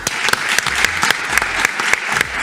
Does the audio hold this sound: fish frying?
no